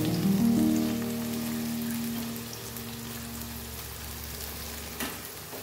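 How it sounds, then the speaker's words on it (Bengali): Onions frying in oil in a pan over a high flame give a steady, dense sizzle that holds throughout. A faint clink sounds near the end, with no voices. "পেঁয়াজটা দিয়ে ব্রাউন ব্রাউন করে ভাজা হয়ে যাবে"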